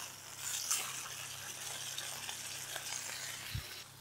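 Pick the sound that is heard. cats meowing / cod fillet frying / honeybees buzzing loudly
cod fillet frying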